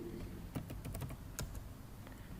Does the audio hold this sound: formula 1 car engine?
no